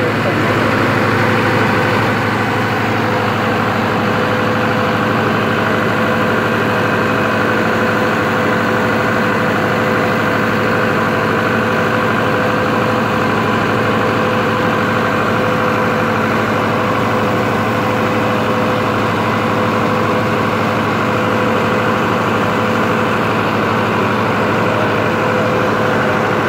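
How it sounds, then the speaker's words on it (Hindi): Diesel generator engine on a DSE 4520 controller, idling at close range with a continuous, heavy, low rumble that stays even from start to finish. "ये इंजन स्टार्ट हो गया हमारा।"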